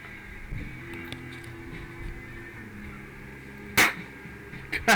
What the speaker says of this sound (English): it can fire full-length darts with some effort